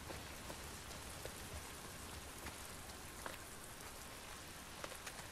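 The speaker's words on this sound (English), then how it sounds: "It is raining, so I should get the hood up" Rain falls in the video game The Last of Us Part 2, a soft, steady patter on surfaces with faint scattered drops, quiet and continuous with no voices.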